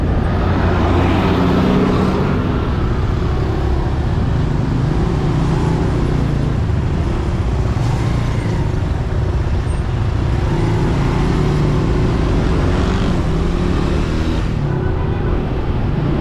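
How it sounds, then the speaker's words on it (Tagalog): Road traffic heard from inside a moving vehicle near Tagaytay, a loud continuous low rumble of engine and road noise with no clear breaks. "Medyo traffic kayo dito guys."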